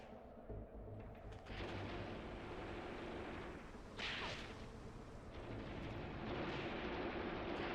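An anti-tank gun firing in the Mius Front strategy game, with sharp blasts standing out from a rumbling backdrop of distant battle and engine noise, fairly faint overall.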